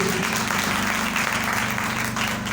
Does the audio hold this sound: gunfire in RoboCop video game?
no